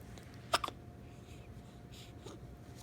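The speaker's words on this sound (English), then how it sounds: "You got the hiccups?" A young girl gives one sharp hiccup and a quicker second one just after, close and clear against a quiet room with a faint hum, followed by soft breathing.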